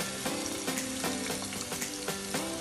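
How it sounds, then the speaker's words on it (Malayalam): Liquid tamarind extract hitting hot, well-cooked masala in a pan for a dried-fish biryani, producing a steady close sizzle with repeated soft bubbling bursts, no voices. "ഇനി നമ്മളിതിലേക്ക് നമ്മൾ മാറ്റി വെച്ച വാളംപുളി ഒഴിച്ച് കൊടുക്കണേ."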